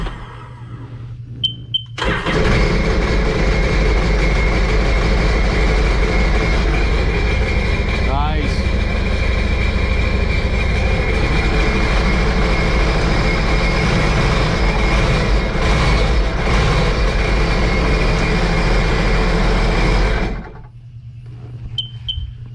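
A Sea-Doo personal watercraft engine, running on old gas, kicks in after a brief pause, drones loudly and steadily for around eighteen seconds, then cuts off.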